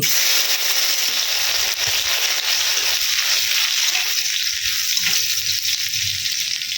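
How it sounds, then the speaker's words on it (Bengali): Crushed garlic hits hot oil in a wok, a loud, dense, steady sizzle that stays even throughout, close and unbroken with no voices. "তেল গরম হয়ে গেছে আমি রসুন থেঁতো দিয়ে দিচ্ছি"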